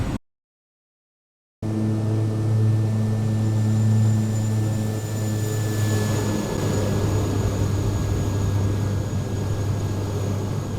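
Kodiak 100 single-engine turboprop in a flight simulator, rolling straight into takeoff: after a brief silence the engine drone jumps in loud and steady, with a low propeller hum and a thin whine, sustained without talk.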